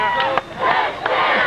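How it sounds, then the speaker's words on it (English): Home crowd at a high school football game near the goal line in the final minutes, a loud massed cheer with shouts swelling and pulsing, close and continuous. "the crowd now is into the game as a number of the Leuzinger faithful are on their feet trying to cheer the Leuzinger effort on"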